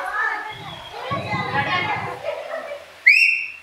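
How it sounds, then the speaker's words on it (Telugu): Children chatter and shout at a school batch reunion, then one person blows a sharp, loud whistle near the end, a single piercing rising note. "గట్టిగా విజిల్ వేయాలి"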